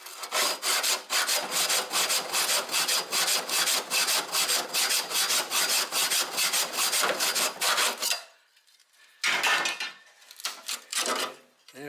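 A hacksaw cuts through the sheet-metal front guard of an old Holden HK/HT/HG in rust repair work, with steady, fast, rasping back-and-forth strokes close up for about eight seconds, then silence and a few final scrapes.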